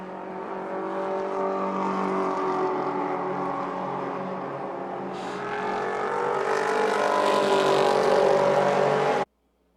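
Vintage race cars, including a 1956 Chevrolet Corvette, a Triumph Spitfire and an Austin Healey Sebring Sprite, roar around the Indianapolis circuit at an SVRA event, a steady loud engine drone that swells as cars pass close before cutting off abruptly.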